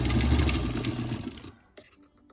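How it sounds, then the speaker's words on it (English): A sewing machine stitching continuously at a steady fast whir for about a second and a half, then stopping, followed by a faint click and handling noise, close up. "I just sew right on"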